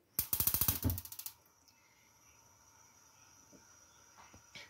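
A gas stove is lit under a kadhai holding water chestnuts and a little water: a rapid burst of loud igniter clicks, then a soft, low, steady hiss in a quiet kitchen.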